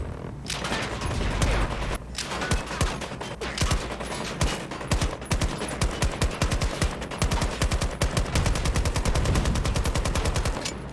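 A machine gun in Battlefield 2042 empties a full drum magazine in a long, loud, continuous burst of rapid gunfire that grows denser and more regular toward the end.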